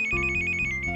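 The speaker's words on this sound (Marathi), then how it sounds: "अरे पण फोन वाजतोय" A phone ringtone plays loudly and steadily at close range, a pulsing electronic ring with no voices over it, in a Marathi TV serial scene.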